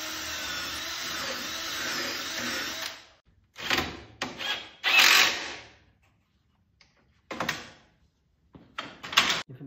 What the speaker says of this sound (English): I'm only putting one screw in here